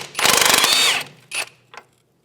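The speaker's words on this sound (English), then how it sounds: "with our impact driver, we can take that nut right off." An impact driver hammers a sway bar link nut off the front suspension of a 2011-2016 Hyundai Elantra, a loud rapid rattling burst of nearly a second, followed by two shorter whirring spins, close up with no speech.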